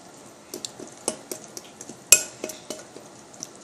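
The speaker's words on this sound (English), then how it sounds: "we got to stir the pancake mix" A spoon stirs pancake mix in a bowl at home, giving a string of soft scraping strokes and light clinks against the bowl in a steady irregular rhythm, with one sharper knock partway through. The sounds are close and fairly quiet, and nobody speaks.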